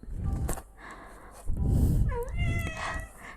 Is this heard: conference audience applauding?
no